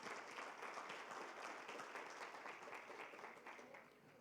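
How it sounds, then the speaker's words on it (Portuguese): Church congregation at a sermon gives strong applause, a dense, steady wash of many hands clapping that eases off toward the end. "forte aplauso."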